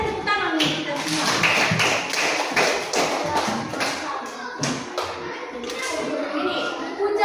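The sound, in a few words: class clapping hands together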